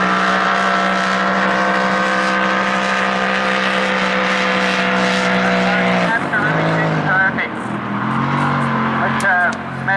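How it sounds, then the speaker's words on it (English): Racing car engine in a Blown Lite shoot-out, loud and close, holding a steady high drone before the revs dip and climb again through a corner; a commentator's voice runs over it. "Listen for the RPM in the engine. Dips down, way out, back out again."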